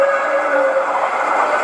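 A train at Basel station rumbles steadily, with a brief tonal squeal or horn-like note near the start, no speech.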